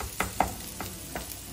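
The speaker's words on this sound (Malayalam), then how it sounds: "ഏകദേശം ഈ ഒരു പരുവ് ആകുന്നോടം വരെ നമ്മൾ ഉള്ളി നന്നായിട്ട് വഴറ്റിയെടുക്കണേ." Onions sauté in a pan for a Kerala-style dish, a soft steady sizzle with a few light stirring scrapes at a close distance.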